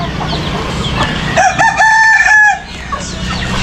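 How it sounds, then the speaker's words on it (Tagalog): Chickens around a house cluck and a rooster crows loudly and close by in the middle, over a steady background of farmyard noise. No one speaks. "Mga manok ko."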